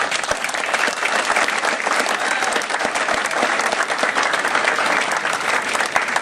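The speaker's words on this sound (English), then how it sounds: "Give him a big round of applause in the back there" Loud, sustained applause from a large crowd, dense clapping that stays steady throughout with no pauses.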